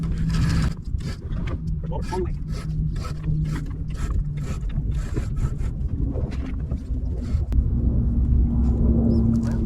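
A 4-to-1 block and tackle aboard a budget cruising sailboat, cranked in repeated rasping, rubbing pulls with creaking rope and sheave noise, close and fairly loud throughout, with a faint voice underneath.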